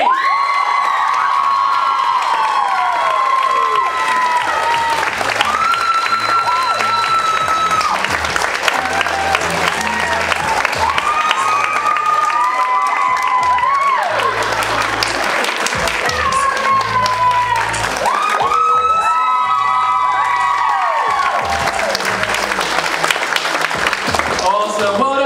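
A competition audience cheers and applauds a winner at an awards results session, with sustained loud clapping, shrill whoops and children's shouts swelling in waves, and voices speaking over the noise.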